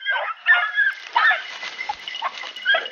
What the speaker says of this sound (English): it sounds like there's a war going on with all these beagles